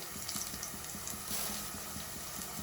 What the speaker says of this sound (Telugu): కొన్ని పచ్చిమిర్చి, ఇవన్నీ బాగా ఫ్రై చేసుకోవాలి